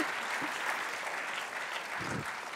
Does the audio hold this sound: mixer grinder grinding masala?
no